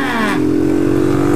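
Honda Hornet motorcycle engine revving with a worn-out clutch, a loud, steady droning tone that climbs briefly and then holds, close by.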